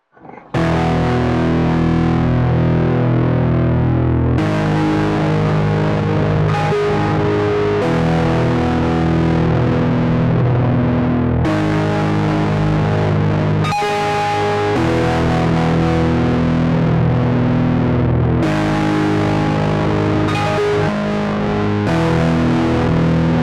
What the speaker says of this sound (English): I'm here with Nepenthes by Electro Foods, and this is legitimately the heaviest distortion I could find.